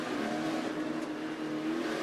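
Dirt race truck engine at Eldora Speedway revving hard after hitting the wall during a mud summer classic race, a steady loud roar with continuous engine tone and no talk.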